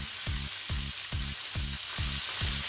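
Meat and garlic sizzle steadily in a hot pan, with a spatula scraping and knocking against the pan in an even rhythm about twice a second. No voices are present.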